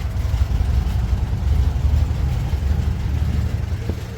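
A Subaru engine fitted in a 1976 VW bus runs steadily with a deep, even rumble close by and no talk over it.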